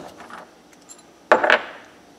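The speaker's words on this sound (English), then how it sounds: "you just want to give a little initial tap on the handle, make sure that that's nice and straight and level" A tap on the handle of a hardened stainless steel coin ring folding tool, one sharp metallic strike with a short ringing tail, heard close after faint earlier ticks.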